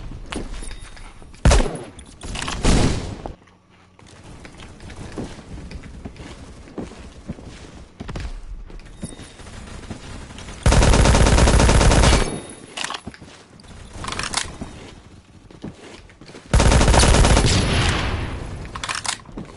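Gunfire in the video game Phantom Forces from the L2A3 gun: loud sustained automatic bursts near the start and two long heavy volleys later, with scattered softer shots and game noise in between.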